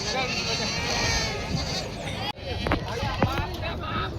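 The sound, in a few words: goats bleating at a goat market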